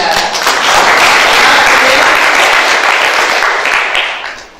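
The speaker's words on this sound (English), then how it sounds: "Yes, with a very big hand clap." An audience at a university human rights competition gives panelists loud, dense applause that swells quickly, holds strongly and fades at the end.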